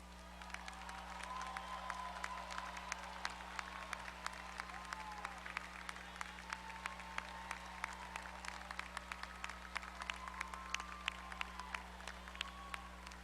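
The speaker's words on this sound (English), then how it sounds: "And graduates, now is your chance to applaud and thank them." Graduates at a spring commencement ceremony, Texas A&M-Corpus Christi 2019, applaud their families with a steady, distant wash of clapping from a large crowd, with a few cheers and a constant low hum beneath.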